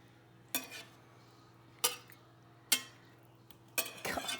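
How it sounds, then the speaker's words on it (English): A few sharp clinks of a utensil against a bowl while stirring an egg mixture, spaced irregularly over a low steady hum, with a brief scraping flurry at the end. "stirring that quickly"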